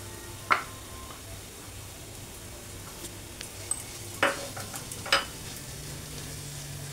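Boiled, mashed potato goes into a cutlet mixture and is stirred, giving a few sharp scraping clicks and soft knocks against the pan spread over several seconds, over a quiet background hum.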